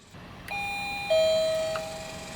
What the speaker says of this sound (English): It's got a doorbell.